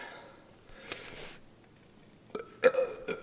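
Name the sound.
burp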